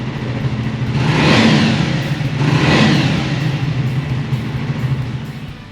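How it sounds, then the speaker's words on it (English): A Triumph Scrambler 400 motorcycle engine revs twice in quick succession, each rise swelling to a deep, throaty exhaust note before settling back to a steady idle. "let's quickly hear the sound of this Scrambler 400"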